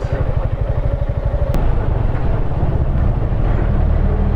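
A motorcycle engine idles steadily and close by at a roadblock during a long road ride in Bicol, its low pulsing throb continuous throughout with a brief sharp click partway through.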